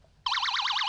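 An emergency siren on a home fire alarm device for people trapped inside starts abruptly, a close, rapidly warbling electronic wail with a thin, toy-like tone that keeps going steadily.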